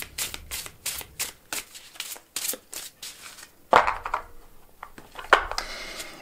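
Oracle cards are shuffled by hand in a quick run of crisp riffling bursts, close and clear, and then a couple of sharper snaps as cards are drawn and set down, with no talking.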